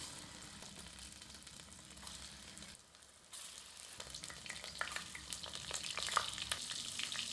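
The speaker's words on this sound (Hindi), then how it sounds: "गर्म तेल में कोफ्तों को आंशिक रूप से तलते हैं।" Chicken koftas partially fry in hot vegetable oil, producing a continuous, moderately quiet sizzle that briefly dips and then returns livelier, with crackling pops growing denser toward the end.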